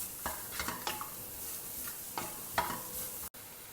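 Grated coconut and jaggery cooking together in a pan: a spatula taps and scrapes against the pan in short, scattered strokes over a faint low sizzle, close and fairly quiet, with no voices.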